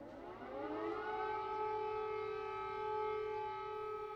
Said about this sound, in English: The sirens are urging people to seek safety.